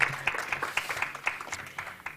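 Church congregation at a Sunday service clapping in response to a donation update: a brief spell of scattered, moderately distant hand claps with a few sharper individual claps standing out.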